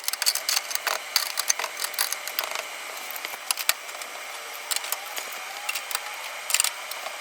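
A ratchet clicks as nuts are run onto bolts on a car during rear clip and air ride work, with irregular bursts of fast metallic clicking, close and moderately quiet.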